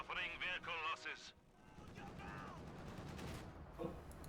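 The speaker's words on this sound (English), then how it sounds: "That was Dishka from the base MGs." Bursts of DShK heavy machine gun fire from base emplacements in the video game Company of Heroes 2, rapid sharp reports with noisy battle din, partly under a commentator's talk.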